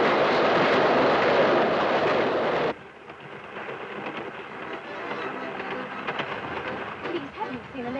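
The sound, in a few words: train running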